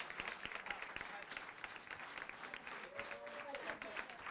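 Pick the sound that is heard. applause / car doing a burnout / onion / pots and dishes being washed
applause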